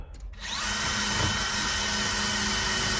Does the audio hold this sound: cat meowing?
no